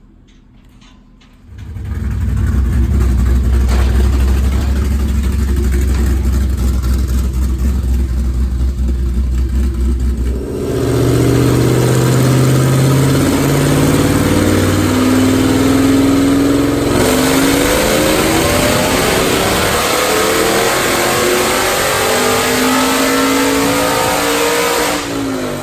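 A 2014 Ford Shelby GT500 with Brenspeed Detroit Rocker cams and stock boost roars through a dyno run in a dyno cell, loud and close, climbing steadily in pitch as it pulls hard for about twenty seconds.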